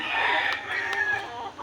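A backyard chicken calls with a drawn-out, crowing-like cry over faint background noise, close and moderately loud.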